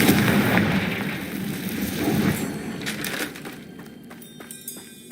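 Confringo explosive spell cast in Hogwarts Legacy, a loud crushing blast with a dense, rumbling burst that tails off into scattered crackles and pops.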